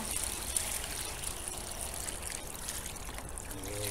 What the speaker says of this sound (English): Fill her up with water.